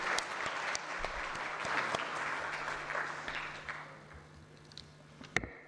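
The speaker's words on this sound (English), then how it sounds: "In a huge round of applause, everyone, the commencement ceremony." Audience applause at the commencement ceremony of the Thar Water Supply Project, a dense wash of clapping that gradually thins and fades, with a few scattered final claps near the end.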